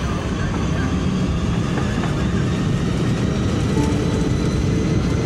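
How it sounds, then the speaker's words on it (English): Jumbo jet airliner engines during the takeoff roll of Flight 96 at Detroit Airport, a loud, steady, broadband roar with a deep rumble, unbroken for several seconds. "Flight 96 lifts off from Detroit Airport"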